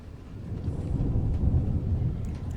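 Steady rain with a low rumble of thunder rolling underneath, a broad continuous wash of storm ambience with no voices, building slightly toward the middle.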